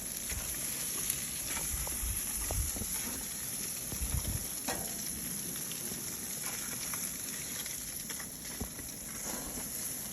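Frozen jalapeños and other frozen food sizzling on an outdoor grill during a snowstorm: a continuous crackling hiss with scattered pops and some low rumbling thumps, heard without any talking.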